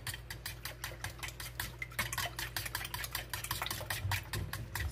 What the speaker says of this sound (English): Alright, so I'm going to whisk this up.